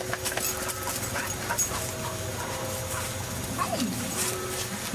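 A dog pants in quick, soft breaths close by, with faint whimpers mixed in, while people talk quietly in the background.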